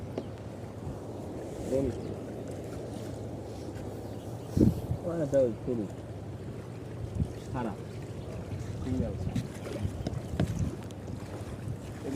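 An engineless boat carrying motorbikes drifts on waves at Kuakata, with wind buffeting the microphone and splashing, while people talk and shout nearby over the steady rush.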